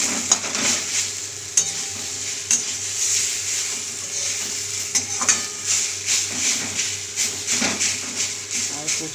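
Taro leaves fry with a hilsa fish head and a little sugar, hissing steadily while a utensil scrapes and clinks against the pan in irregular bursts, close up.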